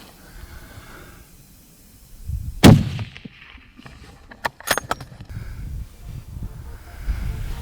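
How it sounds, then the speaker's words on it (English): A single sharp rifle shot cracks out during a mule deer hunt, loud and sudden against quiet outdoor background, followed by faint rustling and small clicks. "Nice shot, Max."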